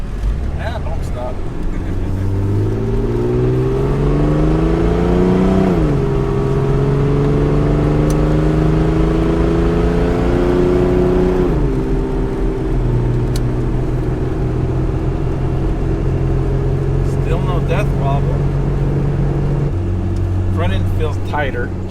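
A homemade vehicle called the Banana, just fitted with rebuilt suspension, makes a high-speed run, its engine loud and close, climbing in pitch through gear changes with steady drivetrain roar and wind throughout.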